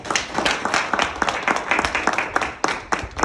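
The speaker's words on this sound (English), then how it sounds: "Clap it up for her." Scattered clapping from a small audience at a daily income opportunity briefing, uneven, close bursts of hand claps over a low hum of room noise, with no one speaking.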